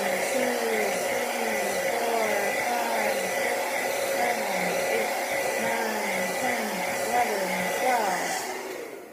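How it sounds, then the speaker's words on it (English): A handheld blow dryer heats Jamberry nail wraps on a child's nails, a steady loud whooshing drone that holds evenly for several seconds before easing off at the end, with no talk over it. "I like to use the blow dryer so that I can go back and forth so it doesn't hold a steady heat like adults"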